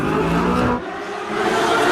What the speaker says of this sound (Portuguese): motores barulhentos são comuns a todo momento